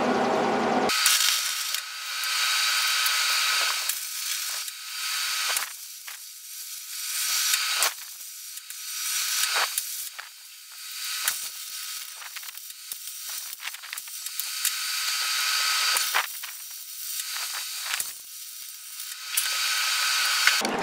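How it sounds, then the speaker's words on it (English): Steel pipe for a gate frame is arc welded, producing a harsh, crackling hiss that runs in long bursts with short pauses between beads, close and fairly loud. "if I just weld this on at the end, right down the middle of the pipe"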